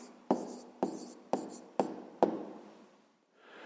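Pen strokes on paper while a maths answer is written down, five short scratching bursts at an even pace, each fading quickly, close and fairly quiet, followed by a faint rustle.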